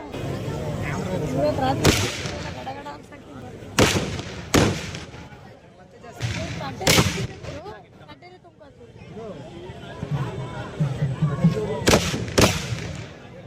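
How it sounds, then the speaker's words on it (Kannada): Diwali firecrackers burst at a village festival for Chennakeshava in Jinnenahalli, Karnataka, several sharp loud cracks and booms at irregular intervals, some near and some farther off, amid crowd noise and people talking. "ನೋಡ್ತಾ ಇದೀರಿ ಈ ಪಟಾಕಿ ವರ್ಕ್ನ"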